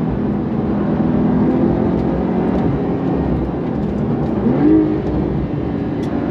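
A 2023 Porsche 911 Carrera T drives along a winding road, its engine and exhaust giving a steady, loud drone with a brief rising rev in the middle.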